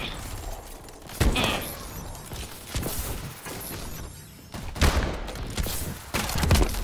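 Gunfire in Call of Duty: Advanced Warfare gun game mode comes as scattered bursts of sharp, loud shots with crashing impacts, spread across the clip between quieter gaps.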